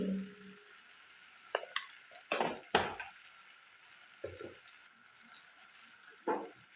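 Spices sizzle in hot oil in a pan for Andhra-style egg curry with chilli powder and coriander powder, stirred in a few short scraping bursts over a steady, fairly quiet frying hiss.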